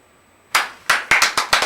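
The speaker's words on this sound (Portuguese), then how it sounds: "são as palmas da plateia" Applause from the audience at a general pediatrics meeting comes as a short run of sharp, close claps after a moment of silence, with no voices.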